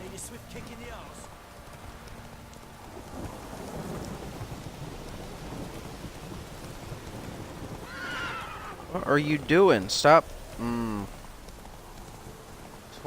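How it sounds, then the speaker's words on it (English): Heavy downpour in The Witcher 3 hissing steadily throughout, with a rumble of thunder rising later and someone speaking briefly over the rain near the end. "This downpour's a bastard"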